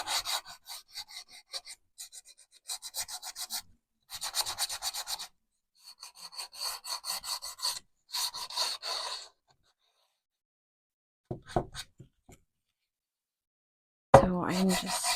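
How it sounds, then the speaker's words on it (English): A small hand sander works over a dry, painted wooden picture frame, distressing the paint in bursts of rasping friction that come and go, with pauses between strokes and a louder rough pass near the end. "I'm going to take my little sander and I'm going to sand it a little bit"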